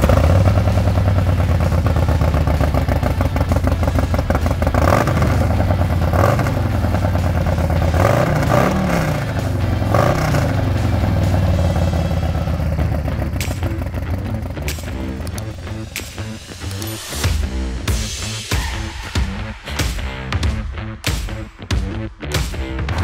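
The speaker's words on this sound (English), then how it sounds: "Let's fire this up, give you a little demo on how it sounds." Custom Harley-Davidson Fat Boy with a 128 cubic inch stage 4 engine and Two Brothers Racing 2-into-1 exhaust, idling loud and lumpy, then blipped through a series of sharp throttle revs near the end, no talk.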